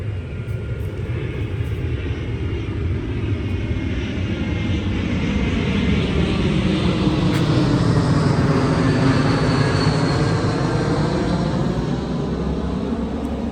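A loud airplane passes overhead, its engine roar swelling and then fading with a sweeping pitch shift, steady and continuous with no voices.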